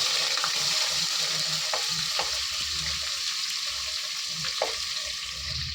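Onions go into hot oil for avarekai pulao and fry with a loud, steady broad sizzle. A few faint clinks of stirring sound through it, and no one talks.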